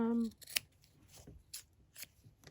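Scissors cutting through cotton interfacing for a face mask, giving a few crisp snips spaced about half a second apart, close and fairly quiet, right after a short burst of speech.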